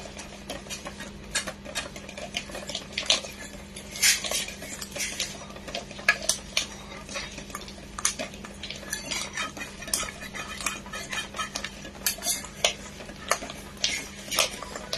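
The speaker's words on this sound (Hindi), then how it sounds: "आइस क्यूब डालने के बाद इसे अच्छे से रब करो जब तक कि ये बटर नहीं बन जाए।" Butter is rubbed with ice cubes in a bowl for malai ghewar, producing continuous scraping, clinking and stirring noises with irregular rhythm, close up and moderately loud.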